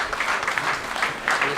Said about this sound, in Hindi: आप सब साबरा आपा को मुबारकबाद इस तरह दे सकते हैं कि आप ज़ोरदार तालियों से उनकी इस काविश का इस्तेमाल करें।